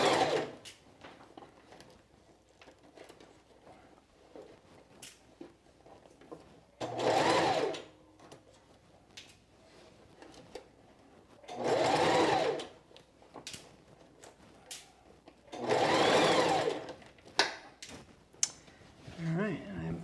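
A sewing machine stitches a quilted jacket in three separate bursts of rapid, steady whirring a few seconds apart, with quieter handling clicks and rustling between them.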